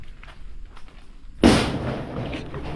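A single loud firecracker bursts sharply partway through, after a quieter stretch of background noise, and its rumbling decay carries on to the end during preparations for a lechon roast.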